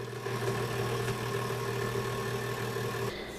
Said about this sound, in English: now we're going to blend this until smooth